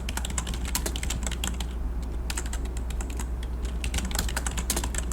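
Computer keyboard keys being typed in quick, irregular bursts with brief pauses, entering text in Photoshop's type tool; the clicks are close and clear over a low steady hum, with no talking.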